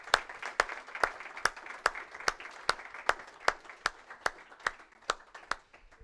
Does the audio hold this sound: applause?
yes